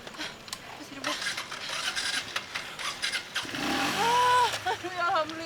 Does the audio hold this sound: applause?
no